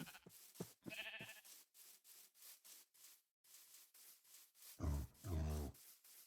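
A sheep in the Minecraft video game gives a pair of close, loud bleats near the end, after a run of soft rubbing and scuffing sounds, with no voice present.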